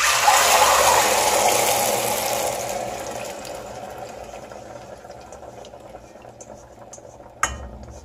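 Blended, strained chile sauce for chipotles in adobo pours into a pot with a steady liquid gush and sizzle that fades gradually, ending with a brief clink near the end; no talk.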